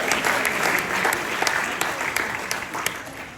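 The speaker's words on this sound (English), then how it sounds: "Let's give these folks a round of applause" A crowd honoring the Husky Marching Band bursts into dense, steady applause, many hands clapping together at an even loudness throughout.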